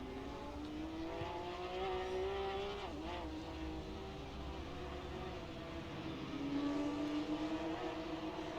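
Race car engine from a sim racing replay, a car spinning and another braking hard: a steady droning engine note that rises, dips sharply, then climbs again, heard at moderate distance with no talk.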